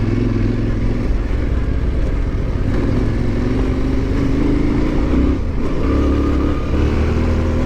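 A motorbike rides along a mountain plateau road in Montenegro, its engine droning loud and steady throughout with wind and road noise, pitch rising slightly as it pulls along.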